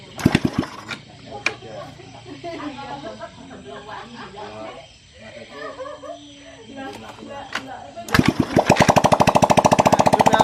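A motorcycle engine fires up after being taken apart and rebuilt, catching near the end as a loud, rapid, steady putter. Before that, voices talk over some background clatter.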